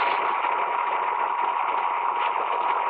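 Sling light sport aircraft engine running steadily at 5,500 RPM in flight, a continuous buzzing drone heard from inside the cockpit, even in level, with no pauses and no speech.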